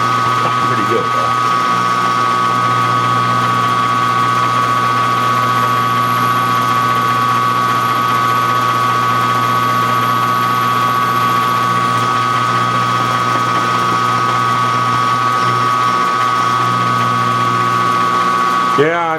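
A vertical CNC milling machine with a 5/16 end mill runs in a shop, giving a loud, steady mechanical whine with strong sustained tones and a constant hum throughout.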